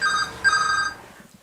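A telephone rings in a home workshop, two electronic trilling bursts close together, fairly clear and fading out after the second ring with no one talking over it.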